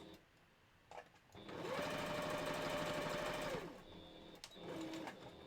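A sewing machine runs in one steady burst of about two seconds while stitching over a seam on a Halloween candy corn fursuit prop pillow. A second short burst follows, with quiet handling noise before and after.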